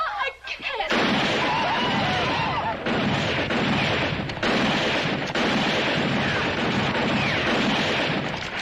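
Rapid gunfire and booming shots fill a western TV drama scene during an Indian attack, a dense, loud, continuous barrage after a brief quieter opening, with shouted voices mixed in.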